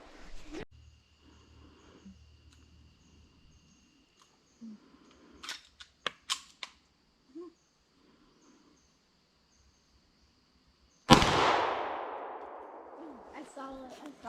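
A few sharp cracks and snaps, then one loud gunshot with a ringing decay, in quiet woods.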